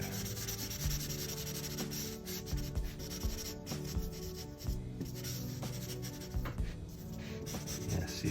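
A chisel-tip marker rubs back and forth across paper while shading a doodled ant drawing, giving a close, continuous scratchy scrubbing with uneven strokes and no talk.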